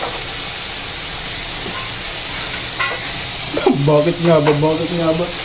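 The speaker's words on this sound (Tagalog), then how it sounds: "Bangus lang piniprito eh." Milkfish (bangus) frying in a pan gives a steady broad sizzle throughout, with voices talking over it in the final seconds.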